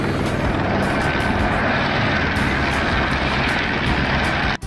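A toy helicopter gives a loud, continuous buzzing whir of rotor and motor, steady throughout with a brief dropout just before the end.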